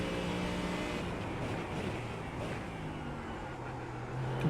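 A Ford Mustang GT3 race car at Sebring in the iRacing simulator drones with a steady engine note that rises and falls through gear changes, continuous and close with no talk.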